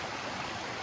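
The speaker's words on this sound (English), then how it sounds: "Little cascades right there." A creek spills over little cascades in the Sipsey Wilderness of Alabama, a steady, dense rushing of water heard close and alone.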